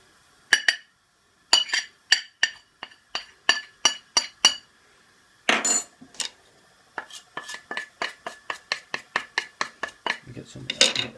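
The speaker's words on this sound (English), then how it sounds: "Just shove your spices in." Spices going into a pan for a takeaway-style Madras curry, a run of sharp clinks and taps of spoon and containers against metal and glass, in quick irregular bursts with a brief rushing pour in the middle.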